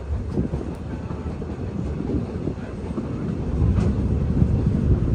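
A Magic Kingdom railroad train rolls steadily along the track, a continuous low rumble with wind buffeting the microphone, growing slightly louder toward the end with no voices.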